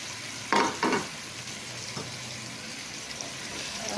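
Pork pieces hitting a hot pot with sautéed tomato for sinigang, giving a couple of sharp sizzling bursts near the start that settle into a steady low frying hiss with occasional light clinks.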